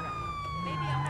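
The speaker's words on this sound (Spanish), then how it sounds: "Bueno, vamos a ir con las sirenas." Police siren from a Volvo patrol car in GTA V with the LSPDFR mod, a steady, close wailing tone held throughout under engine noise, with someone talking over it.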